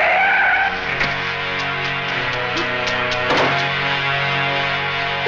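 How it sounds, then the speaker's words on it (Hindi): A car skids to a halt with a long, loud tire screech that persists over the whole stretch, holding steady at close range with no one talking. "नरेन गाड़ी रोको।"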